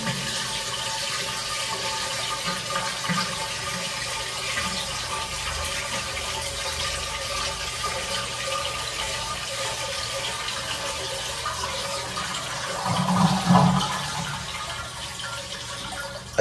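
A toilet tank refills through a newly replaced fill valve, water pouring steadily throughout with a brief louder surge of rushing water near the end; no one speaks over it.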